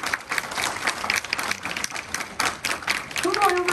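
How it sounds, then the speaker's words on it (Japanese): An audience claps for both wrestlers at a pro wrestling event, a dense spread of hand claps under an announcer's voice, steady throughout and swelling slightly toward the end. "改めて皆様、両選手に大きな拍手をお願いいたします。"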